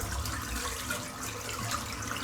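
Tap water runs steadily into a bathroom sink before a shave, a close, even splashing rush with no voices.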